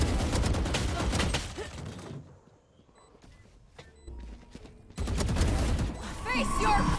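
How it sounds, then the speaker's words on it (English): Rapid machine gun fire in a tactical shooter video game, loud bursts of gunfire at the start and again near the end, separated by a quieter lull with faint scattered sounds. "she's coming through with a fucking machine gun"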